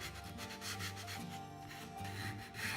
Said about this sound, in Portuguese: Feito isso, vai lixar, para essa fita fixar bem a madeira.